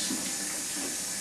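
Tap water pours steadily over red, yellow and green peppers in a sink, a close, even rushing hiss with no talk.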